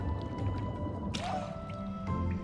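Watery splashing and dripping in Ori and the Blind Forest as the character swims through the water of the Ginso Tree area, soft and continuous with a brief bubbly swirl midway, no talking.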